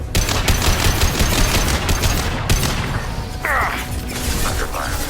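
Dense, loud automatic gunfire from a Mass Effect 2 Legendary Edition firefight, with a hacked turret in play, rattling continuously without a break, with clanks and sharp impacts layered in.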